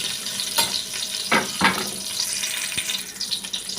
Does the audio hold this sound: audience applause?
no